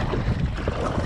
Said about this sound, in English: that wind has certainly picked up